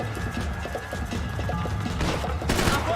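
Gunfire in Max Payne 3, a dense fusillade of rapid shots and mechanical clatter running throughout, loud and close, with a voice speaking briefly.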